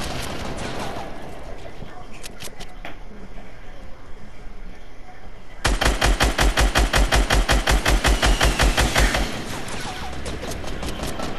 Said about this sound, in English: Yeah, we're getting shot.